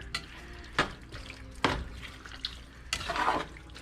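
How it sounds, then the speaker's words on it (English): Cheese dip with tomatoes and vegetables gets a quick stir in a pot, with a few sharp scraping and sloshing strokes against a low, steady background. "Give this a couple more seconds of just a quick stir."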